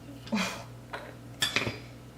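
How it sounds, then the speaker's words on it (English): A knife slices potatoes into long chips, like French fries, for Ghanaian-style chips. A few separate chops land against the board, with short gaps between them. "And so I'm going to slice this up."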